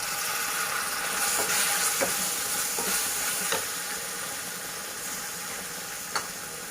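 Tomatoes added to a sizzling Punjabi rajma masala, giving a steady broadband hiss and sizzle with occasional faint ticks and stirring clinks that slowly eases off.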